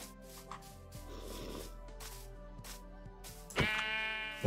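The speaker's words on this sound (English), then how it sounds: "If I punch the sheep, he should go for the sheep." Sheep in the Minecraft video game bleat several times over soft game background sounds, with a louder, closer bleat near the end.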